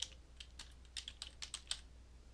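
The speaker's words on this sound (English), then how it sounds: "So I'm going to type that in" Quick, light keystrokes tap on a computer keyboard in a short irregular burst of about a dozen clicks, close and quiet over faint background hum.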